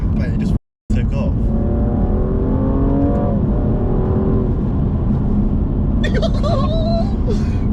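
A BMW M235i engine revs hard and accelerates, its rising and falling engine tones climbing through gear changes, close and loud inside the cabin, with a brief dropout near the start and someone talking over it.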